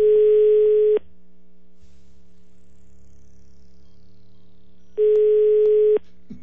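Telephone dial tone while placing a call, sounding as two loud, steady one-second tones at the start and end with a quieter low hum in between, no voices.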